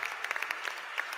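Applause at the World Scout Conference in Cairo, a large crowd's dense clapping heard briefly at moderate volume.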